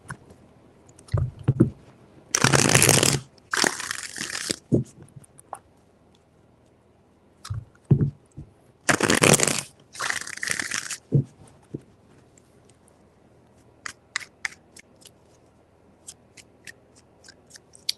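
Several bursts of tarot cards being shuffled, crisp riffling rushes separated by quieter pauses with small taps and clicks, close and fairly loud.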